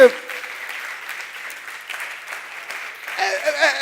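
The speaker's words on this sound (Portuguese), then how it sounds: "Passa uma de palmas pro Joel, gente" Brief applause from a church audience for Joel, fairly steady and moderate, swelling a little toward the end with a voice rising over it.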